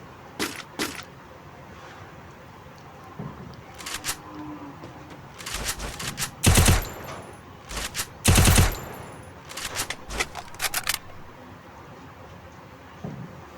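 Gunfire from a one-on-one custom match in a mobile shooter game, with an EMP gun firing headshots: scattered single shots, then two loud, dense bursts near the middle, followed by lighter trailing shots.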